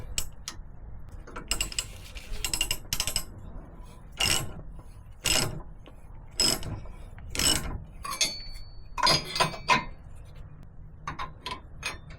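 A ratchet puller clicks and cranks on the front end of a Jeep Wrangler JK, in short loud bursts of rapid metallic ratcheting separated by pauses, close up and alone.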